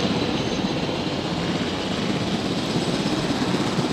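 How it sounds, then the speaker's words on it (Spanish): Helicopter in a Jurassic World video game, a constant loud rotor and engine roar with a dense broadband wash, steady throughout with no pauses. "¿a dónde va el helicóptero?"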